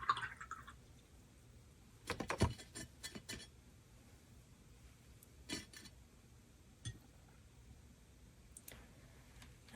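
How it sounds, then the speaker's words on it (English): A paintbrush is rinsed in water, giving faint scattered clicks and small splashes, with a brief busier burst of knocking against the container partway through and quiet gaps between. "Now wash the brush."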